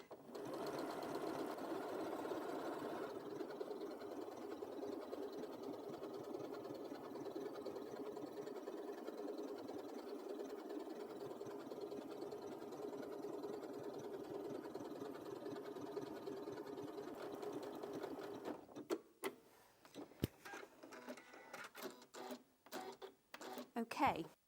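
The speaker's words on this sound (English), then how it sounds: "I'm constantly watching the needle for where it's finishing before I raise my foot and do my turns." A sewing machine stitching a fabric appliqué runs in a steady fast whir for most of the clip, then switches to short stop-start bursts and clicks near the end.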